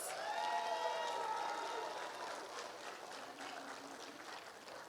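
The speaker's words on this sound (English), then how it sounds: "let's give them another round of applause" Audience applause at an eighth grade graduation ceremony, a moderate wash of clapping from a crowd that is fairly distant and soft, with some faint tonal sound early on.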